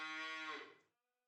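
A single long, loud cow moo from Farming Simulator 25 cattle, rich and harmonic, fading out abruptly into near silence.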